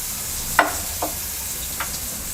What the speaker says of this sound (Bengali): এবার দিয়ে দিচ্ছি চিংড়ি মাছ,